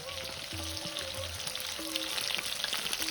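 Whole spices, cinnamon, cloves and ginger sizzle steadily as they are stirred and sautéed in a pan, a continuous close frying hiss with a few soft utensil scrapes and tones, no talking.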